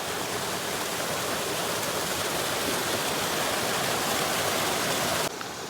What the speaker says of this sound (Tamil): இங்கே பாருங்கள், வாட்டர் ஃபால்ஸ் அப்படியே விழுந்துட்டுருக்கு.